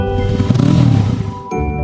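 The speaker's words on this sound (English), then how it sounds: "M is for motorcycle." A cartoon motorcycle engine revs in a children's alphabet rhyme, a brief rising, buzzing roar that swells and then cuts off, mixed loudly with the bright music bed.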